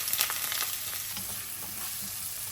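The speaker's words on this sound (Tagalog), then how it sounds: "Then, isaute natin ang garlic and onion." Garlic and onion sautéing in olive oil, a soft continuous sizzle with light scattered crackles and faint stirring, no voices.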